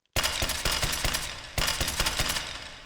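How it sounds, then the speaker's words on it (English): AKM assault rifle fire in the H3VR virtual reality game, two short bursts of rapid, evenly spaced sharp shots, loud and close with reverberant tails and no talking. "Let's shoot some."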